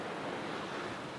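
Ocean waves rush past a sailboat surfing downwind on the open ocean, a steady close roar of water mixed with wind noise, with no voices.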